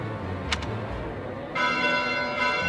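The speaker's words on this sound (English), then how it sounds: "Bells? This late at night?" Bells ring out late at night within the Fire Emblem Three Houses game, a steady layered metallic tone entering midway after a quieter stretch, with a couple of brief chimes early on.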